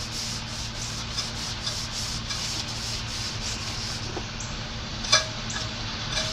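A Scotch-Brite pad scrubs a truck part from a 1986 Chevy C10 under restoration, a continuous rhythmic scratchy rubbing with steady back-and-forth strokes, moderately close, with a faint metallic clink near the end and no talking.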